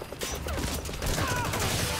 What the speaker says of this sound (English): I think that guy just shot me with a rocket launcher